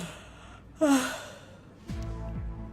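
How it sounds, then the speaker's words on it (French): A woman gives a long, breathy yawn that rises and falls, alone and fairly close, followed by a low ambient hum. "je trouve que c'est un manque de respect de bâiller comme ça devant moi"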